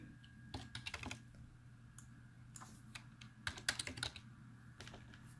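Keys clack in irregular bursts on a computer keyboard as loan amounts are entered, close and fairly quiet, with short pauses between flurries of typing and a steady low hum underneath.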